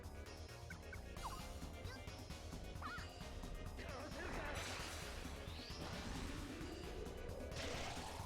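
Video game birds chirp and gobble in quick, swooping calls, layered over a busy, constant wash of game sound effects.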